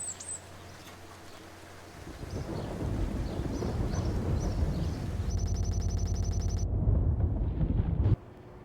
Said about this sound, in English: Oh, this is one heck of a storm.